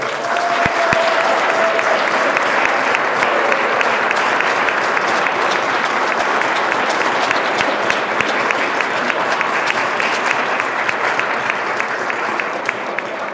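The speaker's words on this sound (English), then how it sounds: "So let's give him a round of applause." Audience applause at an Elizabeth, New Jersey city council meeting: a long, even burst of clapping from a roomful of people, loud and sustained throughout with little talk beneath.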